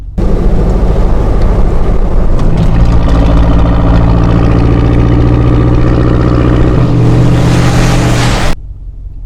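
Idling Hemi V8 in a Ram truck with aftermarket exhaust, loud and close, a steady deep rumble whose tone shifts as the cylinder deactivation switches between eight and four cylinders, cutting off abruptly near the end.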